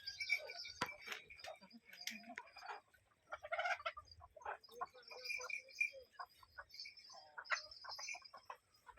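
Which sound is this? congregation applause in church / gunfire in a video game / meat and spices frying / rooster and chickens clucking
rooster and chickens clucking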